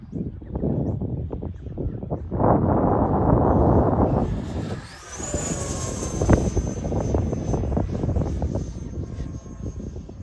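An E-Flite Viper 90mm EDF model jet makes a low, slow pass on a windy day, its ducted fan roaring loudly, rising to a whining whoosh as it passes close, then a falling tone as it moves away, with wind noise throughout.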